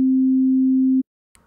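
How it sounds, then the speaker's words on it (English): A steady, loud pure tone holds for about a second and cuts off abruptly, followed by silence and a faint brief rustle. "I can have this sine wave be in the red here"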